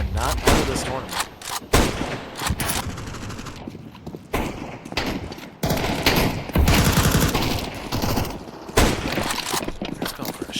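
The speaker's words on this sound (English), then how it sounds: "Humbo standing his ground with some Glock spam" Rapid Glock pistol fire and bursts of other gunfire from a Counter-Strike style esports match on the Nuke map, dense and loud throughout with overlapping shots, faint voices mixed in.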